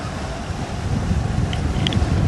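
Steady wind roaring over a Nautitech 40 Open catamaran under sail in strong breeze, a continuous broadband rush with microphone buffeting and no speech.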